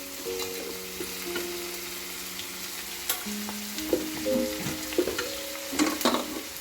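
Pickle masala sautéing in a pan as chili and turmeric powder go in, a soft steady sizzle with occasional scraping and clinks of a spoon, close and quiet, growing busier toward the end with stirring.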